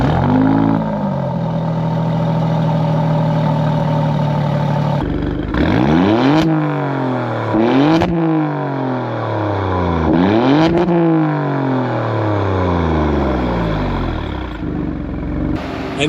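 Loud, close revs from the 2024 Alfa Romeo Stelvio Quadrifoglio engine: a steady idle drone, then three or four sharp throttle blips that each climb and fall away, with no talking.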